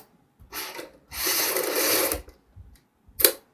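A sewing machine stitches a kurti in short bursts: a brief run, a longer steady stretch of stitching, then two quick stabs with quiet pauses between, close and clear with no talking.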